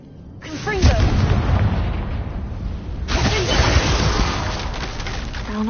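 A Confringo spell explosion in a wizarding video game lands as a booming blast with crackling debris, then a second burst follows a few seconds later, with a voice speaking around it.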